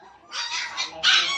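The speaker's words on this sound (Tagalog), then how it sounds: "Dami nilang aso." Several small dogs yipping and whimpering in two brief high-pitched bursts, the second louder, close by at a family picnic at home.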